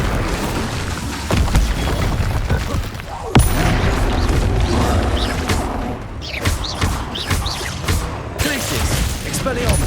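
Fiery Incendio spell casts in the Hogwarts Legacy video game, loud rolling booms and bursts repeating over dense, continuous combat noise.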